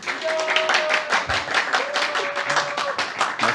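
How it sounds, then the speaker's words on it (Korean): A seminar audience claps to welcome the lecturer at a young people's finance seminar. The sharp, fairly close claps run throughout, with voices talking over them. "나오실 때 우리 박수 부탁드리겠습니다."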